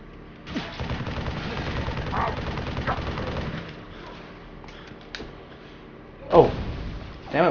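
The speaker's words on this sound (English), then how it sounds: "who is shooting at me?" Bursts of gunfire erupt in Halo 3 ODST, with rapid volleys of shots and a sharp impact, while a player talks over the combat.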